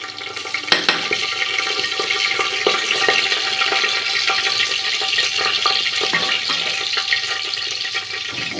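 Cumin seeds, dried red chilli and bay leaf sizzle in mustard oil as a tempering for tur dal, a close, steady frying hiss scattered with small crackles and pops, with no voices.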